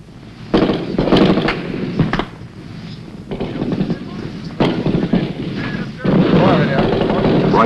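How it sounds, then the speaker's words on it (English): Gunfire from a Vietnam War ambush on Marines, with Viet Cong firing from a village ahead: loud, dense bursts of shots and heavy blasts come in uneven waves, close and continuous with little pause between them. "30 VC opened fire from the village ahead"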